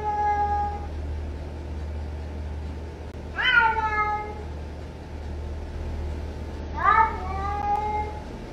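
A pet cat named Jinx meows loudly twice at an open door to the yard, calling toward the family dog, with a steady low background hum between the cries.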